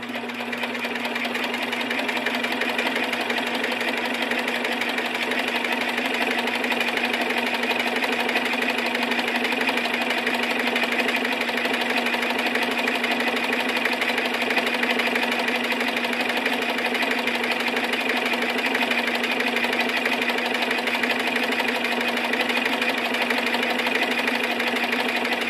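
A TW3 441S walking-foot sewing machine runs continuously, a steady rapid mechanical stitching hum with a faint rattle, close and even throughout with no talk.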